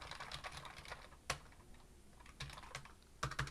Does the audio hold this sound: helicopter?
no